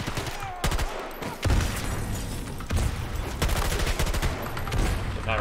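Bursts of gunfire in the Battlefield 2042 shooter game, dense and close with sharp repeated cracks and a busy battle din throughout, a voice occasionally heard beneath.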